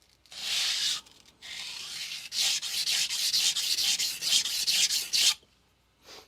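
A dull knife is sharpened on a 400 grit sintered diamond stone with fast, long strokes: a close, harsh rasping in a rapid run of back-and-forth passes, with brief pauses between bursts.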